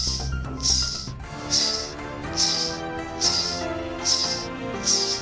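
A voice imitates ghungroo ankle bells, giving seven evenly spaced bright, hissing jingles of equal loudness, close and clear, with no other sound around them.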